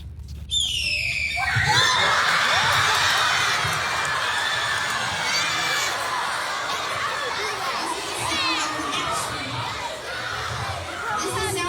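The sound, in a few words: child imitating a red-tailed hawk call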